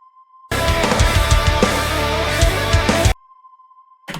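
A soft ambient synth pad sits inside a full music mix for a few seconds, blended under drums and other parts, framed by a steady test tone before and after.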